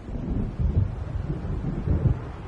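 Low rumbling thunder and gusting wind from an approaching storm in Alan Wake roll along steadily, with swelling surges at intervals and no voices.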